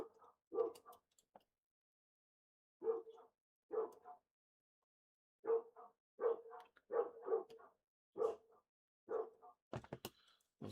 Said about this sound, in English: That sounds like one of our dogs outside.